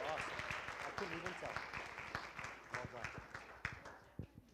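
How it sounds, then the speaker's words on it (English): Scattered applause at a Board of Education meeting for parents and kids, fairly faint, with crisp individual claps and voices mingling through it before it thins out. "Let's give them another round of applause."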